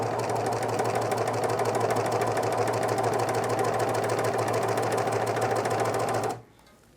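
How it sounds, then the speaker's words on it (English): Baby Lock Protege serger chaining off thread, a fast steady mechanical whir with a rapid even rattle, running nonstop for about six seconds, then cutting off abruptly into quiet. "So I'm going to gently hold on to these threads and hit the pedal, and we should get a chain if we did everything right."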